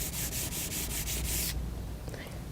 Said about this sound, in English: You're just watching where you're sanding